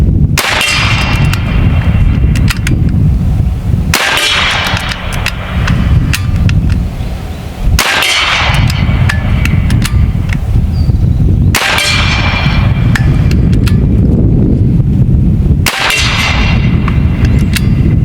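An S45 carbon fiber Fat Boy air rifle fires at a metal target; each shot lands as a sharp, ringing clang, repeating roughly every four seconds over a loud, constant background roar.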